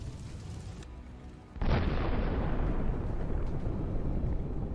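Charges on a UR-77 demining vehicle detonate after a drone strike, a sudden loud blast that erupts from a quieter rumble and rolls on as a sustained, roaring boom.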